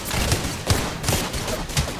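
Rapid, steady bursts from a PK machine gun in a first-person shooter video game, fired close and loud with a dense rolling rhythm throughout.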